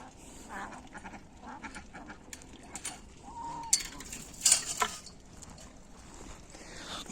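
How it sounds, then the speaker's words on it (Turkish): Chinese geese and ducks honk and quack faintly over outdoor farm ambience, a few louder calls bunching up midway, with some distant rustling. "Çin kazı var. Normal ördekler var."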